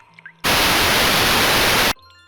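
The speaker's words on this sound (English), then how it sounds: "With the last flashback triggered, white noise abruptly plays." Abrupt burst of loud, dense white noise static from the horror game RE:Kinder, cutting in sharply and holding steadily for about a second and a half before stopping dead, with faint game sounds before and after.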